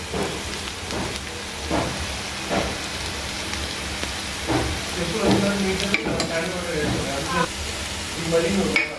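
Onions sizzling in a pan with chili powder and spices while being stirred for a red radish curry, a continuous close frying hiss with repeated scraping strokes throughout.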